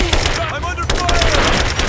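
Rapid gunfire rattles in Rise of the Tomb Raider, loud and continuous bursts mixed with shouted combat callouts from in-game characters.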